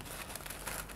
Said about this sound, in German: Ich schaffe es einfach nicht mehr, diesen pädagogisch wertvollen Sticker so abzureißen, dass nicht das ganze Papier dabei flöten geht.